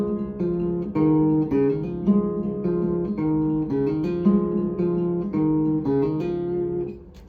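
A melodic phrase of plucked guitar notes, played steadily at a moderate tempo, with each note ringing into the next before fading at the end.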